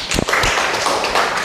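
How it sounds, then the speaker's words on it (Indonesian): Students in a vocational school photography class clap for a classmate, a short, close, steady patter of hand claps with no talk over it. "Tepuk tangan untuk Mas Deva"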